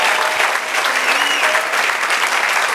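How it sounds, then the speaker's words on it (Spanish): Church congregation applauding during a sermon, a dense, steady wash of clapping from many hands filling the room, continuous and fairly loud with no pauses. "Denle otro aplauso, celébrelo."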